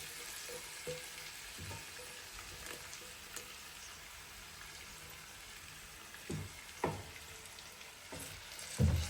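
A meat mixture with chopped potatoes fries in a pan for a filled pie, giving a quiet, even sizzle broken by occasional scraping clicks of stirring, no talking.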